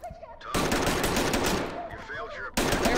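Sustained turret fire roars in a shooter game, one dense unbroken burst of rapid shots lasting about two seconds, then resuming at the end, with a voice speaking briefly beforehand.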